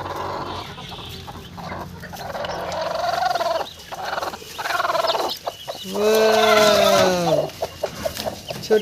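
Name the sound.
hen with newly hatched chicks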